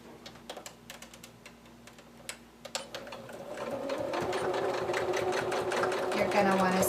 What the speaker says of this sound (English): Now we're going to sew up 2 long sides and 1 short side.